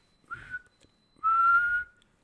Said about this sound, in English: Whistle by the referee.